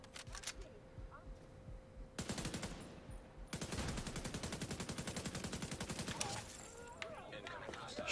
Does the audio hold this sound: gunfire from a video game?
yes